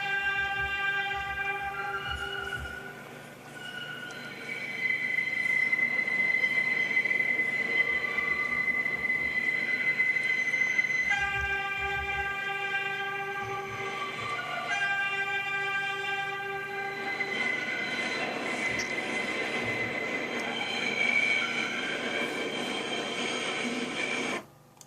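A train horn from the Trainz 12 railway simulator sounds as layered sustained tones over rail and wheel noise, steady and loud, changing pitch a few times through the clip with no voices.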